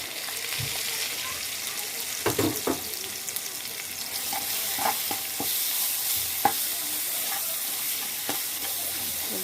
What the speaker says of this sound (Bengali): ভালো করে নেড়ে নেব মশলাগুলো